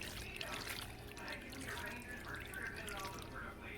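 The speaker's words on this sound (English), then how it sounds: "You just want to pour it into your baking pan." A thick, cheesy baked ziti mixture pours and slops into a baking pan with soft, wet, continuous glopping and dribbling, low and close, with no talk.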